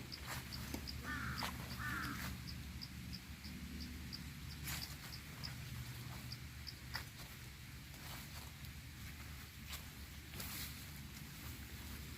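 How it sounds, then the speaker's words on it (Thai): A crow caws several times outdoors in a rainy forest over steady low rumbling background noise, the calls fairly faint and spaced apart. "เสียงกา"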